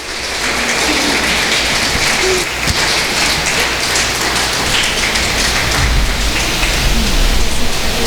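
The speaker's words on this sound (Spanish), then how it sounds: "denle un aplauso a doña Tere para que se le quiten los nervios." A church congregation applauds together to settle a nervous woman about to give her testimony. The clapping is dense, loud and sustained, a steady wash of many hands without pause or voices.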